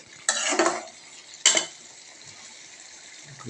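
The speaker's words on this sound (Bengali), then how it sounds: "পুঁটি মাছ ভাজা দিয়ে সুন্দর করে নাড়াচাড়া করে নিচ্ছে" Fried puti fish is stirred in a pan with tomato, making two short scraping, sizzling bursts over a quiet hiss.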